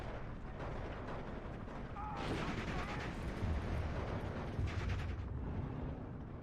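A StuH 42 assault gun fires in a WWII battle in Steel Division 2, with booming low blasts and rumbling impacts rising around the middle, mixed into a dense battlefield din at moderate distance.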